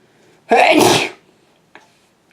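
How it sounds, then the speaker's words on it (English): A single loud, close sneeze bursts out sharply, followed by a brief quiet and a faint short sound afterward. "Sorry, I sneezed."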